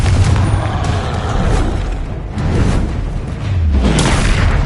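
Confringo explosive spell blast in Hogwarts Legacy: loud, deep, rumbling booms with heavy low-end impact, swelling and rolling on continuously with no gaps and no speech.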